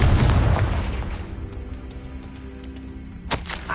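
A Confringo spell blast in Hogwarts Legacy booms as a deep, loud rumble that slowly fades, followed by a sharp crack near the end.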